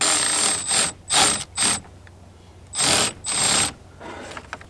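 Ratchet tightening hose clamps on a 1999 Ford 7.3 Powerstroke diesel, five loud close bursts of fast mechanical clicking separated by short pauses, then a few faint ticks.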